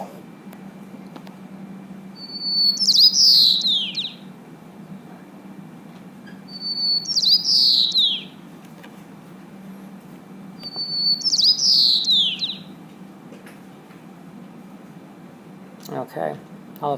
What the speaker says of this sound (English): That's the song sparrow.